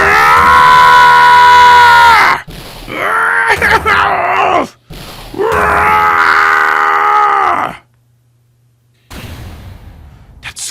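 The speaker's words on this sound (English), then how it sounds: "That scream. I heard that scream before." Loud, drawn-out screams and anguished groans from the Phoenix Wright: Ace Attorney video game come in three long bursts separated by short gaps, ending with a brief quieter burst.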